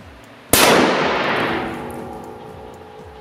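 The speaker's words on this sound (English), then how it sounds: "It took a total of about 1 minute and 3 seconds for the cap to finally cook off." A blasting cap heated by a candle flame cooks off in one sharp, loud crack, followed by a long ringing, decaying tail in a lab setting.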